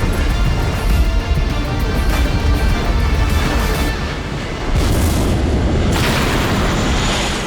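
An airplane blows up in a Korean drama scene, a loud sustained roaring blast with rumbling low end and crackling debris, continuing for several seconds with a renewed surge midway.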